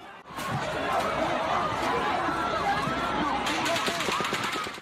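Rapid bursts of gunfire during a mass shooting at a music festival, fired from a high hotel floor, crackling over a dense roar of crowd noise and screaming voices, continuous and chaotic.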